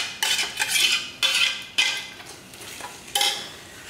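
Tomatoes sautéing in a pot for seeraga samba mutton biryani, with four distinct metal spoon strokes scraping and clanking against the pot over a soft sizzle, and no voices.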